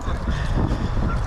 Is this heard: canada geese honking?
yes